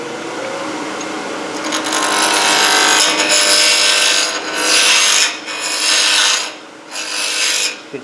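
Sharp turning tool cutting a wooden pen blank spinning fast on a lathe, giving a loud, continuous rasping hiss that briefly dips and returns several times as the tool lifts and re-engages.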